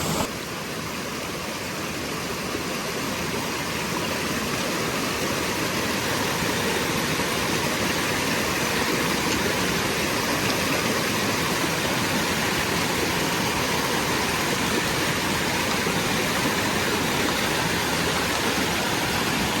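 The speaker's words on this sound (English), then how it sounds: "We're at Comer Creek Falls." Comer Creek Falls on the Appalachian Trail, a loud, steady rushing roar of falling water heard up close, unbroken and dense for the whole stretch with no voices.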